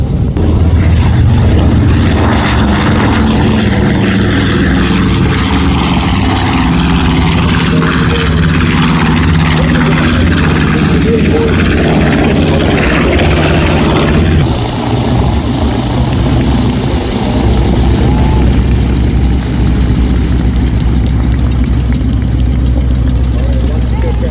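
A vintage propeller airplane at the Wings over Houston 2025 air show taxis down the runway, its engine droning loudly and continuously at close range, while an announcer speaks over the roar.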